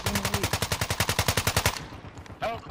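Rapid automatic gunfire from a weapon in Call of Duty Warzone's zombie royale mode, a steady stream of about twenty close, evenly spaced shots that stops abruptly, followed by a brief faint sound.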